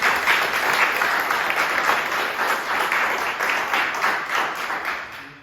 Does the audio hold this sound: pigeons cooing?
no